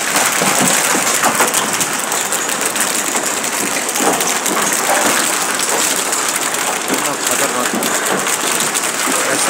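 Heavy hailstorm in the Khanna area, hailstones falling as a dense, loud, constant patter and rattle on surfaces nearby, steady throughout with no pauses.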